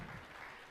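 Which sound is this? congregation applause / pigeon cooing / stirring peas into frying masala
congregation applause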